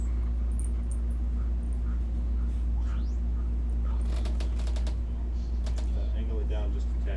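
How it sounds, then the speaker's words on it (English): A puppy whimpers in short high whines over a loud constant low hum, with a few faint yips scattered through. "What the dog doing? Look, puppy."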